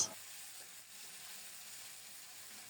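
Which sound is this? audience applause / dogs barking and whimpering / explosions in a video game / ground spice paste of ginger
ground spice paste of ginger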